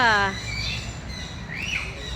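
Birds calling at a wildlife park: a loud burst of stacked, whistly calls at the start, then a rising chirp midway over steady background murmur and crowd noise.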